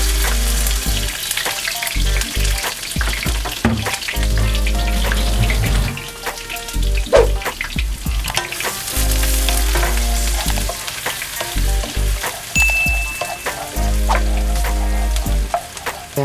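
Onion frying in reused pork oil in a home kitchen, a loud, steady crackling sizzle with intermittent stirring clatter, close and uninterrupted by talk.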